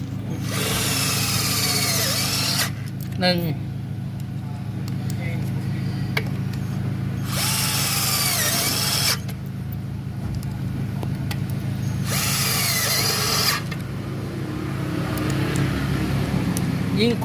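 A Ryobi cordless drill whines in three long bursts as it bores into steel box tube, with someone talking close by between and during the drilling.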